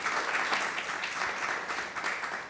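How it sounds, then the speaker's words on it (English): Sustained audience applause after a panel discussion on policing and community safety, a dense, even roar of many hands clapping for a few seconds, loud and continuous with no talk over it. "Could you give a hand for Chief Diaz and Sally Park?"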